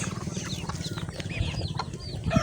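Several chickens cluck close by in a busy flock, with rapid overlapping low clucks and occasional higher squawks throughout.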